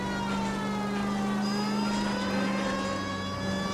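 A police car siren from the video game L.A. Noire wails continuously and loudly, with steady rising and falling tones over engine rumble and no talking.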